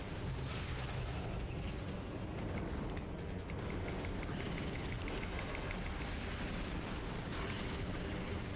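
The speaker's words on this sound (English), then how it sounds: "how about you just take a super missile to the face?" A super missile fires and explodes in Metroid Prime 2 Echoes on Wii, a dense, loud blast that rumbles steadily for the whole stretch with crackling bursts layered over it.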